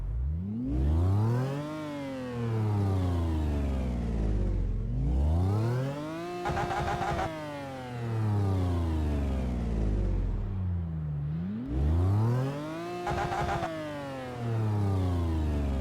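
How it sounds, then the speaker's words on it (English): A Lamborghini Huracan supercar engine in a Euro Truck Simulator 2 car mod revs up three times, each rising roar climbing and then falling back, loud and close with no talking over it. "Let's give it a few revs."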